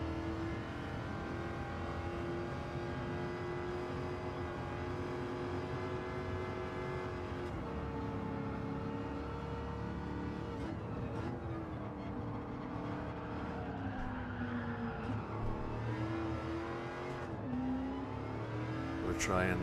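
Car engine revving in Gran Turismo 7 during a race, a steady drone that rises and falls in pitch as the car accelerates and lifts, under continuous talking.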